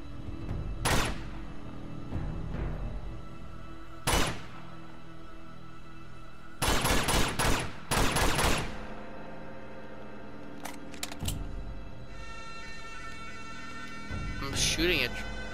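Gunfire in the video game Uncharted 2: several sharp, loud shots and short bursts ring out at irregular intervals over a steady game soundtrack, with a player talking at times.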